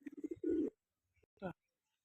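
Jiriya pigeon pair, a male and female, cooing close by: a soft rolling burst, a brief pause, a tiny faint note, then a shorter second coo.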